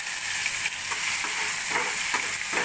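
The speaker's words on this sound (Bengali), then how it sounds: "দিয়ে একটু নাড়াচাড়া করে ভাজতে থাকলাম।" Garlic paste and whole spices sizzle in hot oil while being stirred, a dense crackling hiss broken by repeated scraping strokes of a spoon in the pan, close and steady.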